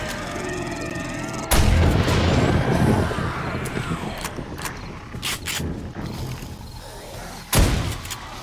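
Gunshots in the video game 7 Days to Die: a loud, booming blast opens the stretch, followed by scattered sharper shots and a second heavy blast near the end.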